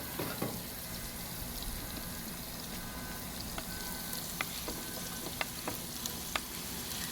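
Tomatoes are frying with fish fillets in a pan over a high flame, giving a steady close sizzle with a few sharp pops and stirring clicks scattered through it.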